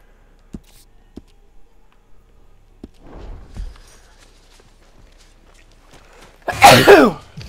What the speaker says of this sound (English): There's the sneeze.